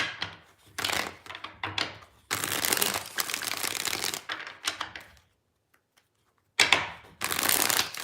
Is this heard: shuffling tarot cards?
yes